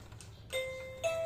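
A two-tone electronic doorbell chimes quietly, a ding followed by a dong about half a second later, over a faint indoor background.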